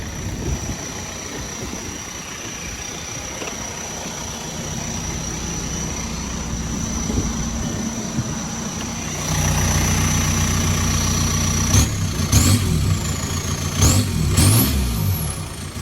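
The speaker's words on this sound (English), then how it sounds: "The motor's really smooth." A VW Jetta MK4 TDI diesel engine with a straight-pipe exhaust idling steadily with a low, even rumble, growing a little louder partway through, with a few high chirps toward the end.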